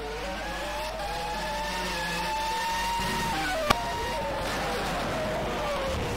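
Race car running off the track onto grass during a racing game season event in Australia, a steady whining engine note with a sharp click partway through, heard under continuous commentary.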